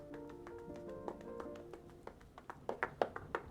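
A series of hollow knocks and taps on a worn corset, irregular at first then louder and quicker toward the end, close by with faint background.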